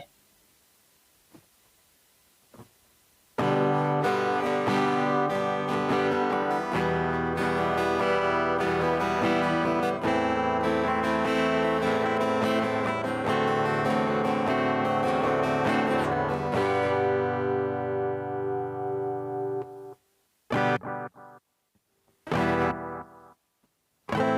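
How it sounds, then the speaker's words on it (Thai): An electric guitar plays through a G-Tone 6 EQ with the reverb knob set at 15 o'clock, a loud, dense distorted passage of sustained chords for about sixteen seconds, then choppy stop-start strums separated by silence. "ปรับปุ่มรีเวิร์บไปที่ 15 นาฬิกานะครับมาฟังดูกันว่าเป็นอย่างไร"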